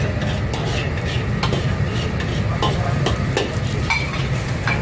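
Mushrooms and tofu sizzle and hiss steadily in a hot wok, with a utensil scraping and clacking against the metal now and then.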